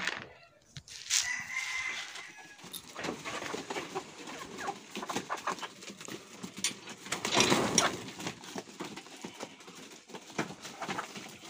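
Village hens cluck after laying eggs on a winter morning in a Sundarbans village, with intermittent clucking, a rooster's crow and other birds calling at moderate distance, and no talking.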